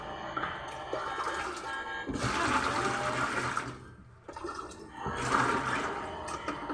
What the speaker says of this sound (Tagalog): Lalagyan na natin ng water siya.